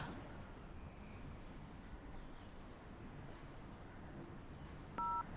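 A single short telephone keypad tone, like a dialing beep, sounds near the end of a quiet interior scene with faint background hiss.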